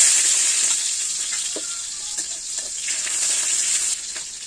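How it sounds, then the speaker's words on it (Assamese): Potatoes frying in oil in a pan, a loud steady hissing sizzle that eases slightly, with a few soft stirring knocks. "প্ৰথমতে মই আলুখিনি ভাজি লৈ লম"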